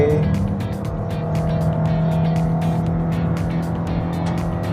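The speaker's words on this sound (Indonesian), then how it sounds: "Akselerasi dari 100 dari mobil ini tuh kerasa banget ya." A Toyota Veloz Hybrid, an LMPV with a 111 PS hybrid setup and an electric motor, accelerates past 100 km/h. Steady engine and road noise hums from inside the cabin with a faint rising drone, with no talk.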